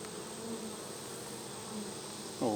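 A dense, steady hum of honey bees buzzing around a hive, close and continuous, with a few individual bees droning louder at moments.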